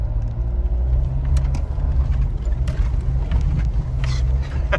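A Mitsubishi Triton ute driving in second gear in sport mode gives off a steady, close engine rumble with a heavy low drone that holds evenly throughout.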